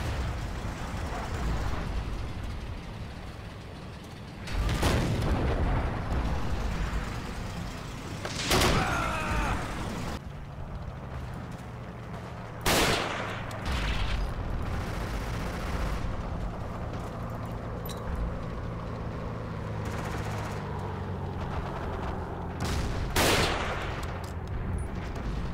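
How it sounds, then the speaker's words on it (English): Gunfire in the World War II shooter Forgotten Hope 2: sharp, loud shots fire at irregular intervals, about five or six spread across the stretch, over a constant rumbling battlefield background. "He's shooting."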